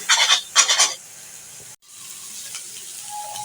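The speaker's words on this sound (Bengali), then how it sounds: "এখন শাকটাকে নেড়ে চেড়ে ভাজা ভাজা করে নেব।" Jute leaves being stir-fried in a pan with salt and green chillies, giving short loud sizzling bursts at the start, then a quieter steady frying hiss with a brief break.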